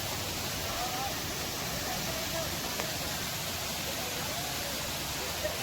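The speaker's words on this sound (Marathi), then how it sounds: "सुंदर पांढरा शुभ्र वाहणारा पाणी" The Jummapatti waterfall, set among green hills, sends white water pouring down in a constant, fairly faint rushing roar with no breaks.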